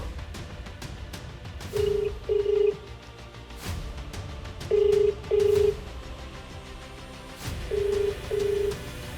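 A phone ringback tone repeats three times, each ring a pair of steady buzzing beeps, over a faint rhythmic background.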